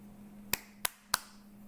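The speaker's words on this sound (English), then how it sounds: "I got the clap on, clap off." Three sharp, close hand claps sound in quick succession to switch a clap-on clap-off light, over a steady low electrical hum in a quiet room.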